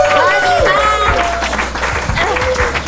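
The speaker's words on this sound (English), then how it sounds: "Big round of applause for Tennah McDonald, everybody." Applause for a guest at a live comedy show, with a crowd clapping steadily while voices and whoops rise over the top throughout.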